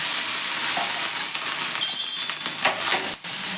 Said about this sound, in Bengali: একটু ব্রাশে করে তেল লাগিয়ে দিলাম চতুর্দিকে। এবার একটু জল দিয়ে দিলাম।